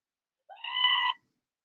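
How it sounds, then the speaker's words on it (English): A screaming goat toy gives one short, cut-off bleat lasting under a second, rising into a shrill nasal cry against complete silence before and after. "It only does half a goat. Half a screaming goat."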